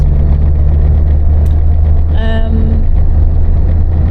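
An Austin Allegro Estate cruises along with a loud, steady engine drone and low road rumble from inside the cabin, a brief tonal whine rising midway, the engine being revved in fourth gear of five.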